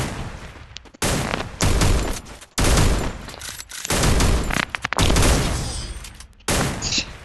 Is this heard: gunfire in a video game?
yes